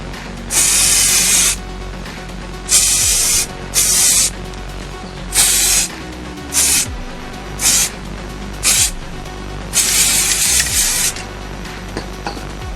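Bursts of aerosol spray paint hiss as a second coat goes onto hair clippers, about ten loud close spurts of one to two seconds each, separated by short pauses.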